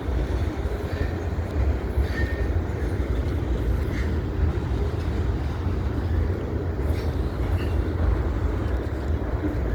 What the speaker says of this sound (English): This is a big freight train.